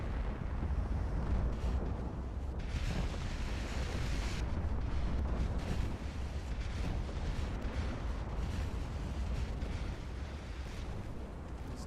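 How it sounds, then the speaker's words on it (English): Torpedo hits on warships in the naval battle game Ultimate Admiral Dreadnoughts: a steady rumbling roar of distant explosions and gunfire with no pause, some heavier booms rising within it, and no talk. "These guys are hitting each other with torps right now"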